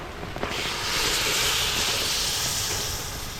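A steady, loud hiss of water poured into a hot pan with coriander powder, cooking outdoors in a forest, sustained for a few seconds with no voices.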